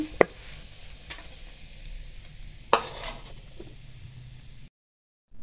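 Vegetables and cheese fry softly in a pan with a low, steady sizzle. Two sharp clinks of a utensil on the pan stand out, then the sound stops abruptly near the end.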